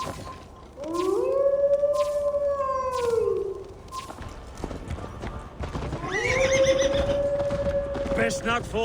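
Horse in Assassin's Creed Valhalla gives two long, loud whinnies, the first around one to three seconds and another near the end, with hoof clip-clop running underneath the game sound.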